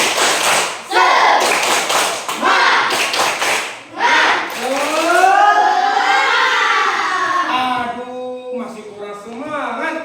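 A primary school group of children and fathers performs the rhythmic tepuk semangat spirit clap. Bursts of sharp, patterned claps lead into loud shouted group chanting, close and lively.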